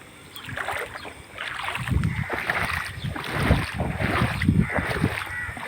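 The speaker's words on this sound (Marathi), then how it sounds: "बघा मी पण चालतो त्या पाण्यामधून" Footsteps wade through knee-deep floodwater in a waterlogged street after the first rain, a series of sloshing, splashing strides rising and falling close by.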